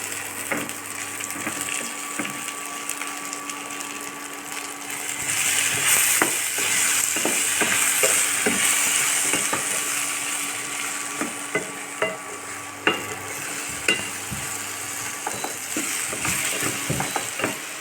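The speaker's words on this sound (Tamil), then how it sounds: "இதில் வெண்டைக்காய் சேர்த்துக்கலாம்" Sliced okra sautés in a hot pan with a steady, dense sizzle. Scraping stirs and sharp clacks of the spoon against the pan break through the frying now and then, with no talk.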